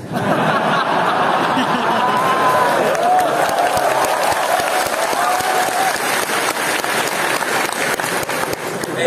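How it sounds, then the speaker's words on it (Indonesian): A university campus audience at a Ramadan event with Anies Baswedan breaks into sustained applause, dense steady clapping with a few scattered chuckles and a faint voice mixed in, lasting about nine seconds. "Kenapa tepuk tangan nih?"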